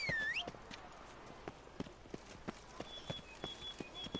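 The horse Roach trots in The Witcher 3: Blood and Wine with a steady clip-clop of hooves, fairly quiet, over faint ambient game sound, with a short whinny or bird-like call at the start.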